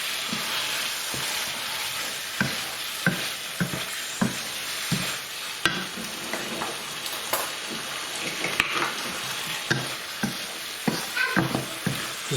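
Lamb and chicken balti with cashews and methi stirred in a pan, a continuous sizzle with rhythmic scrapes and knocks of the spoon every second or so, close and steady with no speech.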